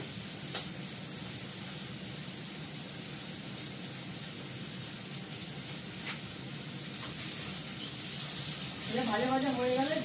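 Food sizzles steadily in a frying pan, a constant hiss of frying with faint occasional clicks, before a voice starts talking near the end.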